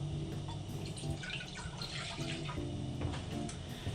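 Orange juice pours steadily into a cooking pot for Moroccan couscous, a continuous close liquid splash and trickle with no talking over it.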